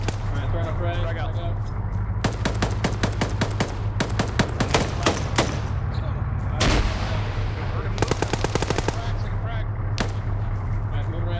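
Video game combat with a thrown frag grenade and rapid gunfire: dense bursts of automatic shots and sharp cracks crowd the whole stretch over a steady low engine hum, with a heavier blast near the middle and voices talking underneath.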